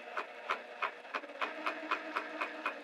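A sewing machine stitches a bag lining in quick, even bursts, about ten regular mechanical clicks and whirs close to the microphone, quiet and alone.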